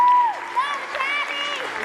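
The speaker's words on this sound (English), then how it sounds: "How about another round of applause for Richard Felizelda" An audience claps for the 2017 VIA Man of the Year at a community awards ceremony, with close applause bursts over a steady crowd murmur while a voice speaks over it.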